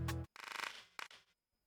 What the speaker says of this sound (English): my other clap. This is like a rolling type of clap.